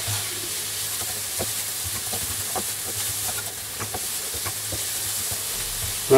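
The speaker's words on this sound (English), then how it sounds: "frying for about 3 or 4 minutes until they get nice and soft" Onions sizzle steadily in a hot pan, a soft continuous frying hiss with occasional light stirring clicks and no talk.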